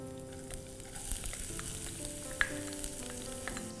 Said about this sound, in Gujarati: હવે આપણે એની અંદર જે બારીક સુધારેલા કેપ્સિકમ છે એ પણ નાખશું.